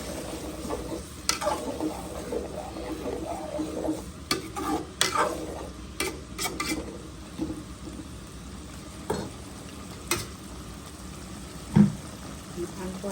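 Eggs and a whole green chilli frying in a pan, a soft steady sizzle with scattered clinks and scrapes of a utensil throughout and a voice talking quietly in places.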